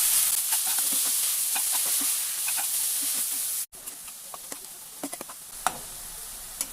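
Red spinach fries in a pan with onion, garlic and chilli, a steady bright sizzle under soft stirring scrapes. It cuts out abruptly partway through, then quieter hissing continues with scattered clinks.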